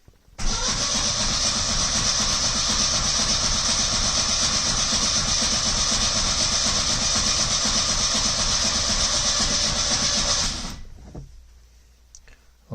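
A rebuilt engine in a 1970 Lancia Flavia Milleotto LX being cranked by its starter motor, a steady whirring churn for about ten seconds without catching, then it stops and goes quiet.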